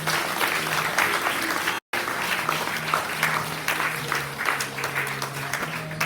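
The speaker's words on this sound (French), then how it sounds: "On acclame pour le Seigneur." A church congregation applauds and praises the Lord with steady, dense clapping that fills the hall from start to end, broken only by a momentary cut near the middle.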